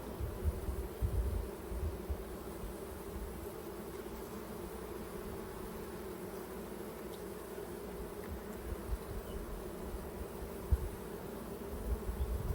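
Honey bees buzzing around the hive frames of an opened beehive, a dense, steady swarm hum close by, low and continuous with small swells, with no talking.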